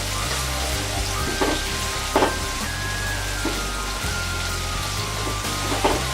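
Minced meat sizzles and spatters steadily in a pan over medium heat for a Bengali keema dish, with occasional louder stirring scrapes rising over the continuous frying hiss.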